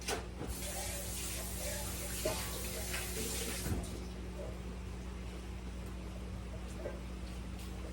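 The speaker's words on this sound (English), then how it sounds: "Get my bowl and rinse my bowl off." Tap water runs while a bowl is rinsed at a kitchen sink, a steady hiss of flowing water with splashes that stops partway, leaving faint hum.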